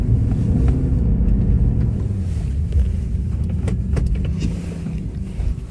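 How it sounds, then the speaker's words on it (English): A four-wheel-drive vehicle crawls along a badly rutted remote road in Alaska, its engine rumbling steadily from inside the cabin with constant low road noise and faint knocks and rattles throughout. "this road's really bad, so I have to put it in four-wheel drive"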